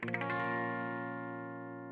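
A single sustained minor chord rings out on a clean, effected guitar, struck once and left to slowly decay alone.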